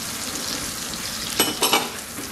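Garlic and onion sautéing in a pan for shrimp aligue pasta, a continuous close sizzle broken by two brief scraping stirs near the end.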